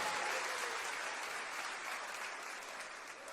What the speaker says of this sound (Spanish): Un fuerte aplauso para todos ellos.